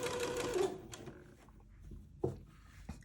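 A sewing machine stitches along a drawn line on fabric, with a rapid mechanical whir at the start that fades, followed by quieter gaps and a few isolated clicks and knocks.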